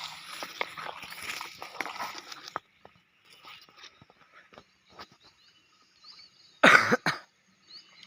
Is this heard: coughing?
yes